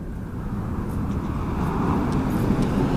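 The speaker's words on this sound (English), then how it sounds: "There is a plane up there, but it's going into the clouds," A plane passes high overhead, hidden in storm clouds, as a distant, steady low rumble that builds slightly over a few seconds with no voices.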